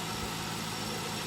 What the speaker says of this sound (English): There is a squeal, I believe, coming from this, so I do need to get the alternator replaced at some point.